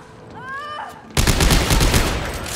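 Sustained gunfire from the Dead Space 3 video game bursts in abruptly after a brief synthetic tone, a dense, loud rattling barrage that continues without pause to the end.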